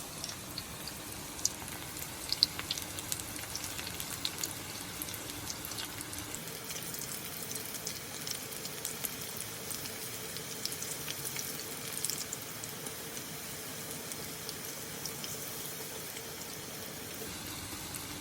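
Pakoras frying in hot oil, a soft, continuous bubbling sizzle with small crackles, fairly faint and steady throughout, with no voices.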